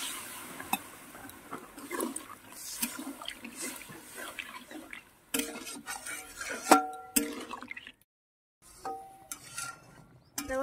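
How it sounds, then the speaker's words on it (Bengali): Water pours into a pot of fried paneer curry, rushing and splashing in bursts with clinks and stirring scrapes, close and moderately loud, with a short silent gap near the end. "ভাজা হয়ে গেছে, এখন জল দিয়ে দেবো।"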